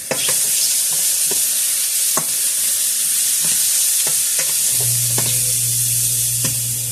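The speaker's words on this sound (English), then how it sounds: "Let's get a spoon. Mix this around over here." Spoon stirring meat lasagna filling in a pot, steady scraping and sizzling texture with periodic clinks of the spoon, close and fairly loud, with a low steady hum entering near the end.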